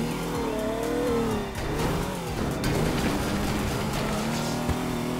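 A car engine in the video game Teardown revs hard and rises in pitch, drops briefly, then roars up again, loud and close with gritty rumbling throughout.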